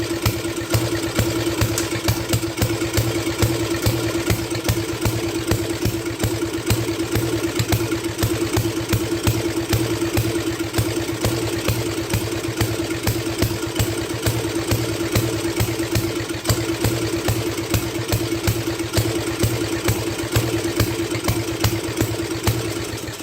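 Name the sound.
MTD lawn tractor engine running roughly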